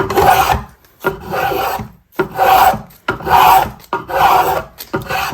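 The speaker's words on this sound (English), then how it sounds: "I'm essentially going to make a very shallow bevel now on this side" Hand rasp or file shaping a shallow bevel on a wooden chair leg, loud close rhythmic strokes, each long gritty scrape separated by brief pauses, about five passes.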